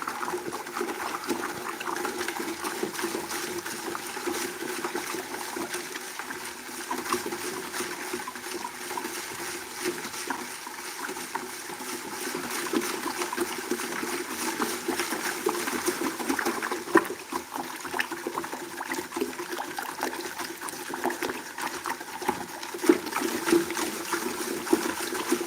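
Fresh water is poured into a saltwater aquarium holding a rose anemone, giving a steady, quiet trickle and splash that runs on and on without talk.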